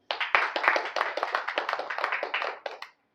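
An audience claps for a student who placed second in a test, with brisk, dense applause lasting about three seconds before cutting off abruptly.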